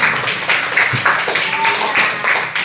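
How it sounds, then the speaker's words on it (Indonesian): Schoolchildren in a classroom clap for a classmate, a lively, busy patter of small hands mixed with young voices chattering throughout. "tepuk tangan buat temannya"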